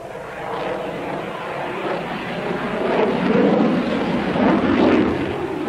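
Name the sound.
large military jet aircraft flying a tight loop at an airshow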